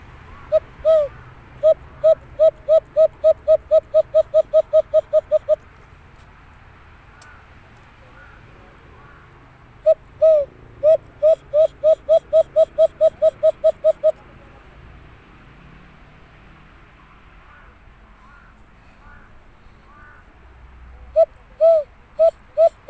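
A whistled hooting call, repeated in long rapid runs of evenly spaced notes, pauses between bursts in an otherwise quiet setting; a person imitating a bird.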